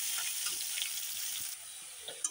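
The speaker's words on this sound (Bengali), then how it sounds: "এখন আলুগুলো আমি ভেজে নিচ্ছি।" Potato chunks, cut large, fry in hot oil for a fish curry, giving a steady, close hiss of sizzling with faint crackles and a small clink near the end, no voices.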